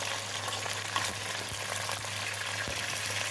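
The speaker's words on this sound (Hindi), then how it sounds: "अब हड्डियों को और गोश्त को मैं फ्राई करूँगी थोड़ा सा ऑयल और प्याज के साथ" Beef and bones frying in a pot with oil and onion, a soft, even sizzle that hisses steadily throughout with a couple of faint clicks and no voices.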